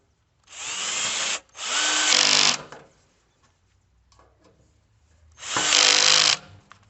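Power driver running bolts into a corner of a Yaheetech patio fire pit table, with three loud whirring bursts of about a second each and quiet handling noise in the pauses.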